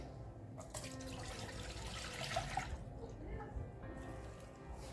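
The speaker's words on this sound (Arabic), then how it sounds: "كنجيبو كاسرول وكنكبو فيها نصف لتر ديال الحليب" Half a liter of milk poured into a saucepan, a steady liquid pour with a soft trickling wash that swells midway and then thins out.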